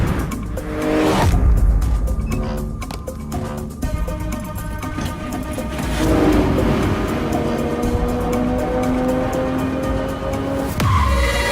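A car pulls in with a brief screech of tires, its engine noise rising and settling over a loud, steady dramatic music score, with no one speaking.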